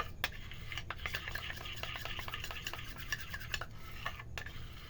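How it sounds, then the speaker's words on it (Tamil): A beetroot powder and corn flour face mask being mixed with milk in a small bowl, heard as quick, light, rhythmic scraping and clicking strokes of a spoon, close but fairly quiet, with no voices. "பால் கொஞ்சம் கொஞ்சம் ஊற்றி மிக்ஸ் பண்ணிகிட்டே இருந்தோம்னா நல்லா ஒரு சூப்பரான ஃபேஸ் மாஸ்க்கு ரெடி ஆகிடும்"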